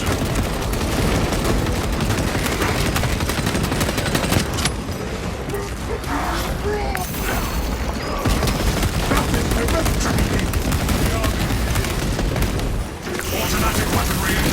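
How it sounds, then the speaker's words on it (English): Automatic gunfire roars without a break from a Space Marine weapon in the video game Warhammer 40000: Space Marine 2, dense and loud, mixed with booms and battle noise. "Automatic weaponry engaged."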